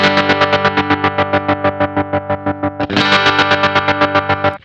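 Distorted Telecaster electric guitar chugging through a tremolo pedal at maximum speed, volume pulsing rapidly and evenly; a brief break, then a louder, brighter pulsing chord continues.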